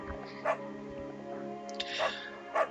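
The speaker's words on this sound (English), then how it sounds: "Bucket's a good dog" A dog in the video game Firewatch gives three short barks, spaced apart and moderately close, over a steady musical hum in the game.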